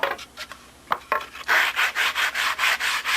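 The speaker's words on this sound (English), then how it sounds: "Sanding it, but leave the sanding dust on." Sandpaper works a wooden joint on a model Spitfire: a few scattered scrapes and taps, then steady rhythmic back-and-forth sanding strokes, close and fairly loud with no talking.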